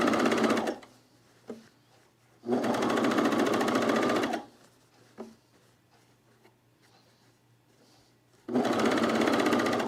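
Serger overlocking the edge of fabric on a home machine, loud steady whirring in three bursts of about two seconds each, with quiet pauses and small clicks between them.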